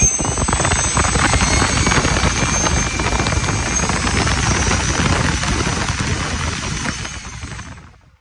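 A small RC plane motor spins an AMS TPU propeller at steady high speed, a loud, even whirring whine with a thin high-pitched tone that holds for several seconds and then tapers off as the motor winds down.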